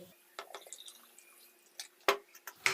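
Normal RO water is poured into a glass holding turmeric, heard as scattered, close drips and splashes at irregular intervals, faint at first and then several sharper, louder drops near the end.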